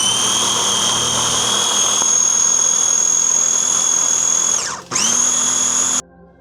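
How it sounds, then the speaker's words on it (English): A kitchen mixer grinder grinds coconut chutney, a loud steady high-pitched whine that briefly dips in pitch as if switched off and on again, then stops abruptly near the end. "I'm going to grind it again."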